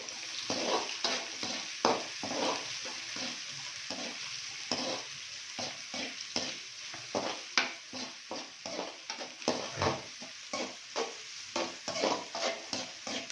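Chicken pieces for chicken majestic frying in hot oil, a steady sizzle broken by frequent rhythmic scrapes and clatters of a spatula stirring in the pan, close and fairly quiet.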